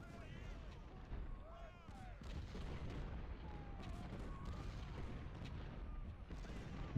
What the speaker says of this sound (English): Not all of our artillery is firing.